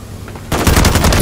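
Sustained automatic gunfire from the Call of Duty video game bursts in loud and close after a brief quiet lead-in, a rapid rattling string of shots that keeps going to the end.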